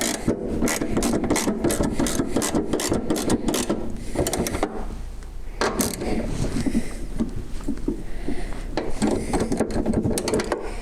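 Nuts are snugged up with a ratcheting tool during an S&B cold air intake filter install, a close run of rapid clicking rasps in bursts with short pauses between.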